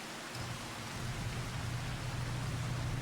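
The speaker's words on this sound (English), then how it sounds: "Man, this rain is torrential." Heavy, torrential rain pours steadily in the farming game Farming Simulator 25, a dense, continuous hiss with a low rumbling undertone that grows slightly stronger, no voices present.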